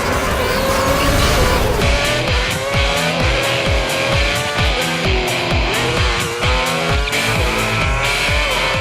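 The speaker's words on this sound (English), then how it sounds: "the roar of competing cars keeps you well aware of their positions on the track" Formula One cars in the F1 2010 racing game roar continuously, with engines revving up and down through rapid gear shifts, loud and close, along with squealing tires.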